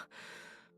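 Arnold yawns once, a brief, breathy exhale lasting under a second, close and alone with no other sound around it.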